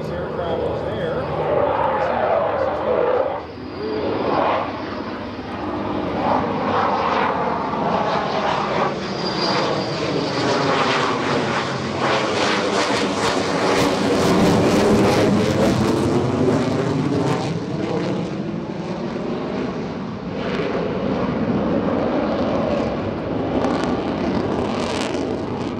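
A military F-16 jet intercepts a small propeller aircraft at the EAA Oshkosh air show, its engine roar swelling loud and near, then fading while a commentator talks over it.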